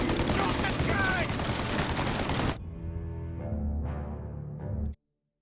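Gunfire in a shootout in Mafia: Definitive Edition, a dense loud fusillade of shots for a couple of seconds, then quieter background sounds with a voice before cutting to silence.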